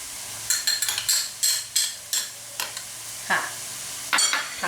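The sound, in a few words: stir-frying chili paste with straw mushrooms in a pan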